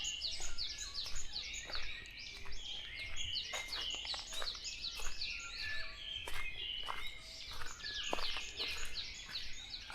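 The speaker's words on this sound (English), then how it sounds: "I can hear the bird, the black-naped oriole." A black-naped oriole sings in morning woodland at a distance, fluting phrases repeating steadily over a dense bed of other birds chirping and faint insect hum, with no voices.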